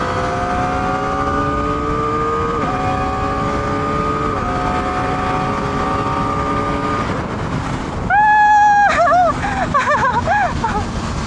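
A Kawasaki ZX-4RR motorcycle on a racing circuit gives a steady, close engine drone that climbs slowly in pitch through gear changes, then turns to a louder high-revving whine with quick rises and drops, under wind noise.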